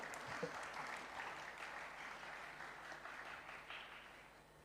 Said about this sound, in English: Let's give a round of applause and welcome.